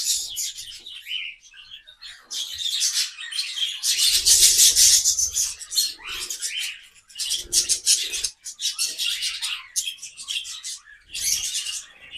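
Budgies chatter and chirp in busy, high-pitched bursts, close by, with brief pauses between flurries and no talking.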